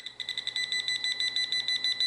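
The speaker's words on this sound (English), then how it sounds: "It's got a proximity beep to it. So as you get closer, it pinpoints your target." A metal detector pinpointer's rapid, steady electronic proximity beeping repeats about eight times a second, high-pitched and close, with no voices.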